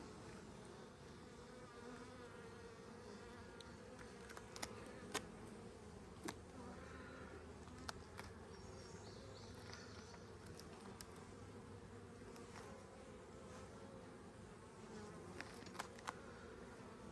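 Honey bees buzz steadily around an open hive during an inspection, a dense continuous drone with occasional sharp clicks and knocks from handling the frames, and no voices.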